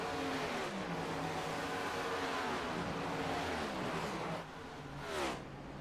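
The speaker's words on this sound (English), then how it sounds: "we got a bunch of cars coming down pit road here" Race cars in a racing video game roll down pit road at a Kansas Speedway event, a steady droning engine hum with layered pitches that shift and dip near the end, moderately loud and continuous.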